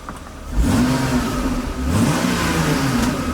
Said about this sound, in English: Revs up nice.